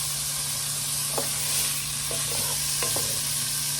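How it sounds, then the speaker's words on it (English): Bacon frying in a pot to render its fat, with a steady loud sizzle and hiss throughout and a few brief scraping stirs of a utensil against the pot. "We're just gonna fry that up. So basically what we're doing here is we're rendering the fat."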